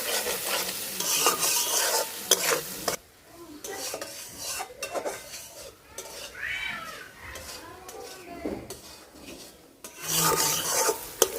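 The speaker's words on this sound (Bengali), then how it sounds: "টমেটো দিয়ে মশলাটা ভালোভাবে কষাই নিছি" Spice masala with tomato being sautéed in a pan, a spoon rubbing and scraping through the thick mixture in steady strokes over a soft sizzle, loud and close with brief quieter stretches.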